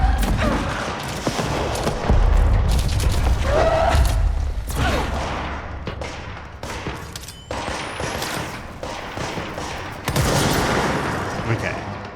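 Guns firing in the game Control, heavy bursts of shots and thudding impacts in rapid clusters, loud and close, mixed with other game noise and some talk.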